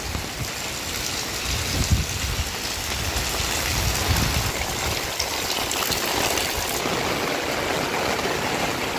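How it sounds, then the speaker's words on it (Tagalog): Heavy rain pours down steadily in a dense, continuous wash, with gusty swells and water splashing on surfaces throughout. "Lakas lang ng ulan mga kaprok."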